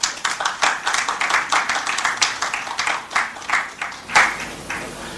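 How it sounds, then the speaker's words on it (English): Audience at a wealth summit clapping in a round of applause, a crisp, fairly thin patter of individual claps with uneven swells, carrying steadily for several seconds. "A round of applause for him, please."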